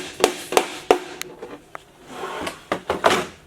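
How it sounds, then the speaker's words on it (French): A traditional twisted nail is struck with sharp, close, irregularly spaced knocks while a second hammer is braced on the opposite side, with a few softer taps between them. "je viens positionner mon marteau d'un côté, mon second marteau de l'autre"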